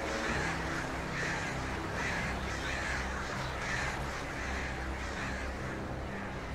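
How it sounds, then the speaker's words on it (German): Crows caw steadily in the Alan Wake video game, a dense, continuous chorus of harsh repeated calls set over a constant wash of ambient game noise. "Vögelchen."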